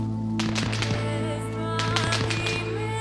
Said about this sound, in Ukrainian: Передають, що щось десь по нашому хаміку стріляє